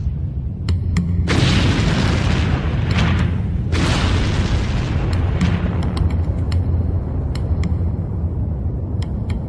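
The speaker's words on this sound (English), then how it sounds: "As that comes towards the surface, the pressure reduces and this explodes out of the lava into the atmosphere." Volcanic gas bursting explosively out of lava, a loud sustained roaring rumble with deep booming bursts and sharp cracks layered on top, filling the whole stretch without any voices.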